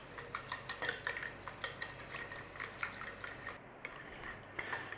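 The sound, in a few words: gentle stirring of sandwich ingredients in a bowl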